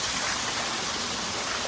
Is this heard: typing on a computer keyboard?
no